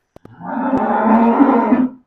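A Holstein Friesian (HF) dairy cow offered for sale gives one long, loud, close moo lasting nearly two seconds, just after two sharp clicks.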